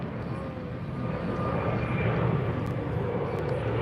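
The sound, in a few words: United Airlines Airbus A321neo jet aircraft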